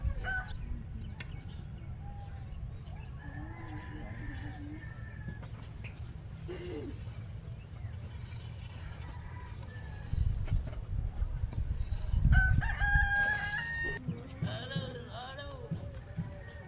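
Chickens cluck and crow at a distance amid faint background noise, with a louder rustling burst partway through and occasional voices.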